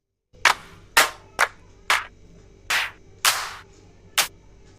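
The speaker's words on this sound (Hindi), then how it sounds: "इसको बोलते हैं क्लैप।" A clap drum sample from FL Studio Mobile strikes seven times at an irregular, deliberate pace. Each hit is a crisp, bright, close snap with a short fading tail, separated by near silence.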